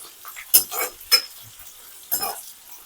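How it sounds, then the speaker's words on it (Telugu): Ladle stirring curry leaves in hot oil for a gonguura oil: a few brief scraping clinks and light sizzle bursts, close and dry, no talk. "ఇప్పుడు ఒకసారి గరిటెతో బాగా కలుపుకుందాం."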